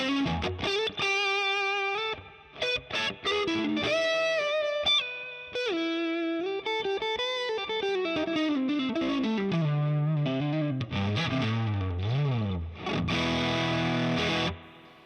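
Electric guitar through a K100 amp on a Fender-style clean tone with a touch of grit, playing chords and single-note runs with slides and bends, loud and alone.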